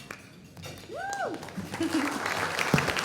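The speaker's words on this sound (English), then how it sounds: "Y'all are really good at clapping." An awards ceremony audience claps and cheers, starting thin and swelling into fuller applause, with a rising-falling whistle or whoop near the start and scattered voices.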